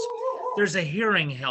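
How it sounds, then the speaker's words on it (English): A dog barks and yips indoors in a home during a livestream telethon, several short yelps and a whine rising over a man's continuous speech. "Sorry about the dog."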